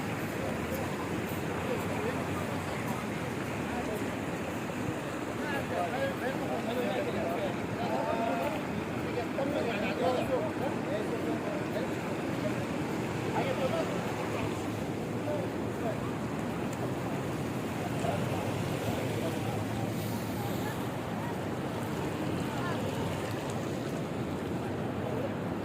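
Floodwater rushes along a mud-covered road in Oman, a steady broadband roar with heavy wind buffeting throughout as people talk over it.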